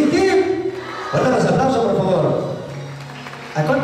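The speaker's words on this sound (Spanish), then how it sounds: "Fuerte los aplausos" Applause at a quinceañera celebration, steady clapping from the gathered crowd that swells partway through and fades near the end, with voices and talk mixed in.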